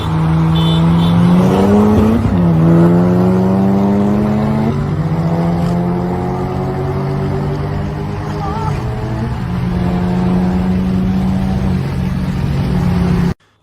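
A Honda Civic Type R drag races a modified muscle car, engines roaring loud and close with rising pitch sweeps as gears shift, tire noise underneath, continuous for over thirteen seconds.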